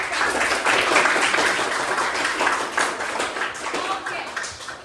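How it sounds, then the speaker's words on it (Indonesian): A classroom of students claps for their teacher, a steady patter of many hands that carries on for several seconds with voices mixed in. "Tepuk tangan lebih untuk saya."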